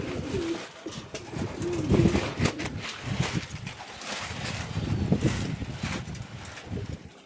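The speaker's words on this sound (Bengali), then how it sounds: "দেখো ওখানেও আছে কবুতর" Pigeons cooing softly in a loft on a cool afternoon, repeated low murmuring coos at close range over a rustling background, with no talk.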